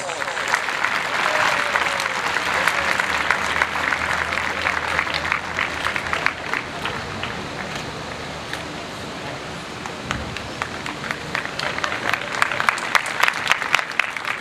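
A ceremony audience applauds a prize winner, with dense, continuous clapping that dips slightly midway and then swells again, accompanied by faint murmuring and low crowd noise.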